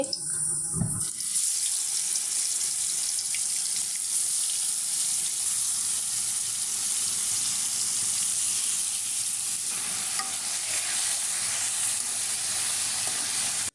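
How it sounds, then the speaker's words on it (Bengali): Meat sizzling loudly in hot oil, a steady dense crackle that runs throughout, with a brief clatter at the start as the pieces go into the pan. "মাংসটা এখন ফ্রাই করব তেলটা গরম হয়ে গেছে দিয়ে দিচ্ছি"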